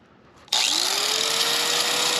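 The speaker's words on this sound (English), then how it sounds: "Right angle grinder here." A right angle grinder powered through a 3,000W digital power inverter switches on with a sharp start, spins up and then runs at a loud, steady, high-pitched whine close by.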